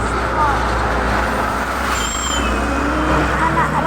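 A tour bus passing on a road among steady traffic rumble, low engine drone with a brief whistling tone, loud and close, while people talk nearby.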